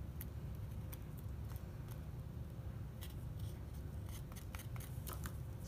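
A knife carving a wooden neckerchief slide makes faint, sharp scraping and snipping cuts at irregular intervals over a steady low background hum.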